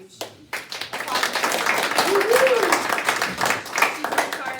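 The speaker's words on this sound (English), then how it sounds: "we gotta give her a really huge applause." Hearty clapping rises from a business meeting crowd honoring a title manager. It swells after a brief opening and stays full and close, with a voice speaking over it.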